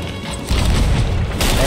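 Cannon fire in a pirate ship video game during a fight with sloops, a loud booming blast with crashing impact that carries on as a heavy roar, followed by a second burst.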